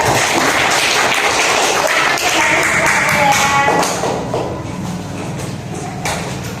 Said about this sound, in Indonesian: beri tepuk tangan untuk Mbak Adel